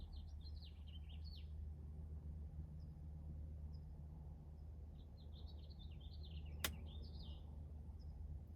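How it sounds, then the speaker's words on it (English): Birdsong outdoors: scattered chirps and short warbling phrases from several birds at a moderate distance, heard over a steady low rumble of background noise, with one sharp brief crack near the end. "In this environment, there are birds."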